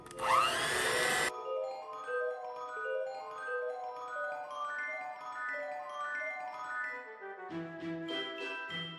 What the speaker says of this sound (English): we're going to quickly mix this up until we get some peaks forming